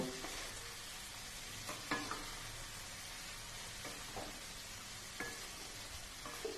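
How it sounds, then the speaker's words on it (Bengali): A spoon stirs fried eggs through sautéed masala in a kadai for dim masala, soft steady sizzling broken by occasional scrapes and clinks, fairly faint and without talk. "মশলার সাথে ভালো করে ডিমগুলোকে একটু মিশিয়ে নেব"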